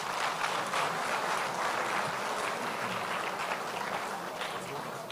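An audience at an investment summit in Edo State claps in a sustained, even round of applause that stays loud for the whole stretch, then eases slightly toward the end.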